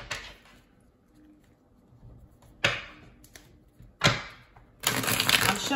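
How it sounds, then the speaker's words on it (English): A deck of playing cards being shuffled by hand, heard as a few sharp riffling bursts separated by quieter handling, close and fairly loud, with no talking. "I'm shuffling again because a card fell"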